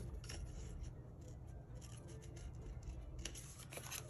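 Scissors snip through a Dollar Tree sticker for a tree ornament craft, with quiet close-up cuts and rasping slides repeating in a steady rhythm.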